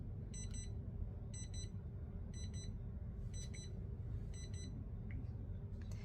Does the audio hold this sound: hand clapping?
no